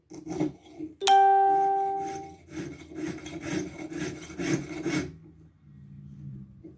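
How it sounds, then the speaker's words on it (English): A hand saw cuts through wood in a steady series of rasping back-and-forth strokes, close and clear, opening with a brief metallic ring and stopping abruptly near the end. "try using the whole blade of the saw"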